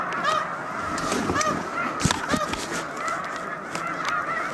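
A large flock of snow geese honks continuously on Cayuga Lake, a dense overlapping chorus of many birds calling near and far with a few louder close calls standing out.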